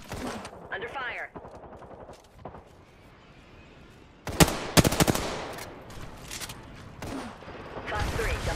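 Gunfire in the Apex Legends video game: a short, loud volley of sharp shots bursts out midway, with a few more scattered shots after it, while a voice speaks before and around the firing.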